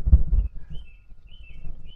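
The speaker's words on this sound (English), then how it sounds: "You might be able to hear the birds" Birds sing outdoors with faint, scattered high chirps over a low rumble of wind and handling noise near the microphone.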